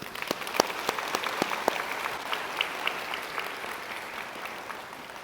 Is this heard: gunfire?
no